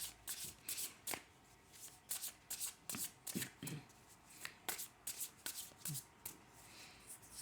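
Tarot cards being shuffled by hand in a series of quick riffling bursts with short pauses between, fairly close and moderately loud, with no talking.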